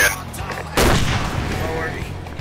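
A weapon fires at a target. One heavy, booming shot lands partway in, and its long rumbling decay carries on after it with no talk.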